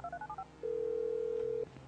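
Phone dialing in Grand Theft Auto V: a quick run of short two-tone keypad beeps, then one long steady tone, clear and close over a low game background, with no talking.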